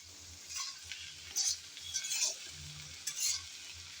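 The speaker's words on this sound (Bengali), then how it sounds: "এখন কাঁচামরিচ আর ঢেঁড়স দিয়ে নেড়ে চেড়ে আবারও ভেজে নেব।" Okra and green chillies are stir-fried in a pan with black cumin: soft, fairly quiet sizzling beneath repeated spatula scrapes and light metallic clinks.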